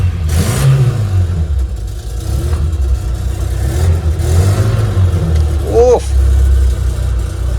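A 1987 Maruti Gypsy with a 1000cc engine starts and revs, giving a loud, close mechanical drone that rises and falls with the throttle. A brief voice cuts in near the end.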